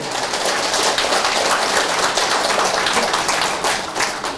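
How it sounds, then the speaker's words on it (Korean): A women's church retreat audience claps steadily and fairly close, a dense even patter of many hands lasting throughout. "박수 한번 쳐도 되죠?"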